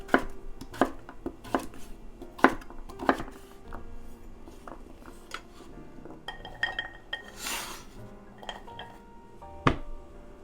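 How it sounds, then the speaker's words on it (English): A knife cuts butternut squash into big cubes on a board, giving a string of sharp chopping knocks in irregular bursts, close and clear, with occasional light clinks and no talk. "Now slice it into thick pieces and cut them into big cubes."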